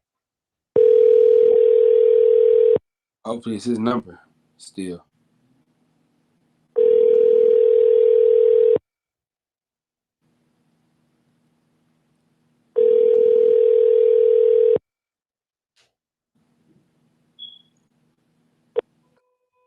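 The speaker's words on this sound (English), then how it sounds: "Well, his phone ringing." Ringback tone on an outgoing telephone call: three long, steady buzzing tones, each about two seconds, separated by silent gaps. Someone speaks briefly between the first two, and a short click comes at the end.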